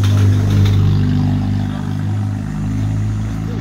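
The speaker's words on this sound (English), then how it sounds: "Car coming." A car passing close by outdoors, a steady low engine rumble and road noise that stays loud throughout with a slight swell, no voices over it.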